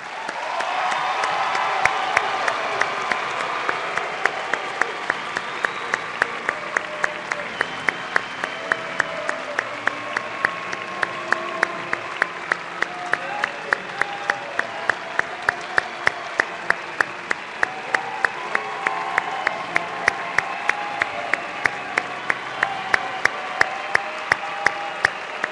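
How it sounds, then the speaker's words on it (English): A large crowd at a spring commencement ceremony applauds for graduates in a long, sustained wash of clapping with scattered sharper claps standing out, steady and full throughout with faint cheering mixed in. "let's give our graduates one more round of applause"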